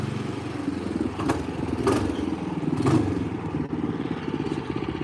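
A small MB200 mini bike engine idles with a steady mid-pitched rumble, rising in three short rev bursts near the start before settling back to a continuous idle, heard close and alone.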